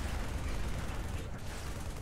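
Gunfire in Halo 3 ODST, a dense, continuous rattle of shots blending into a steady wash of noise for about two seconds, fairly close and with no clear gaps between rounds.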